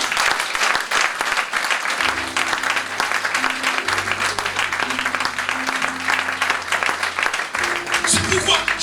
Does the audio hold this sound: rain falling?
no